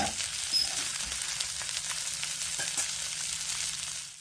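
Pomfret fish coated in rava shallow-frying in a pan, Goan style: a steady close hiss of hot oil with faint crackles that runs unbroken and slowly eases off at the end.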